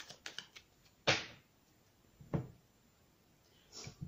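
A few crisp card snaps and shuffles as a tarot deck is cut by hand, three or four distinct slaps spaced over a few seconds in a quiet room.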